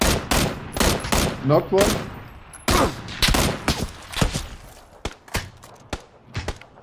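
Rapid bursts of gunfire in PlayerUnknown's Battlegrounds, sharp close shots in irregular volleys, some loud and some more distant, with voices talking between them.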